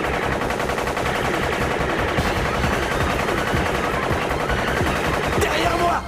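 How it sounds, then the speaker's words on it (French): Rapid, sustained machine-gun fire from a double weapon in a 1999 French-dubbed Hunter x Hunter anime fight, a loud continuous rattle running for about six seconds with no pauses. "Double mitraillette!"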